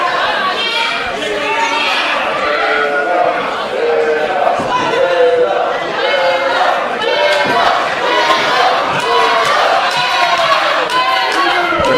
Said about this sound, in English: The crowd obviously firmly behind Willow here